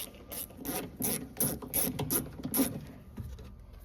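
Hand tool ratcheting on the tail light fasteners of a 2014-2016 Toyota Highlander during rear inner tail light removal, giving a run of close, rhythmic clicking bursts with no talking.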